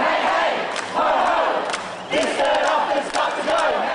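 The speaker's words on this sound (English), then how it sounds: "the crowd made plenty of noise" A crowd of protesters shouts outside the Education Department, loud, massed voices rising and falling in surging waves with brief dips between bursts.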